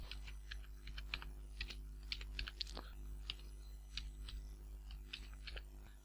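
Someone types steadily in Microsoft Word 2007 on a computer keyboard, making soft, close, irregular clicks over a constant low hum, with no talking.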